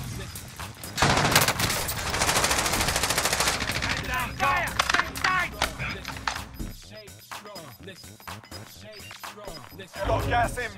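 Rapid machine-gun bursts and scattered gunshots from a battle-royale shooter, loud and dense for several seconds, then thinning into sporadic shots with voices calling out over the firefight.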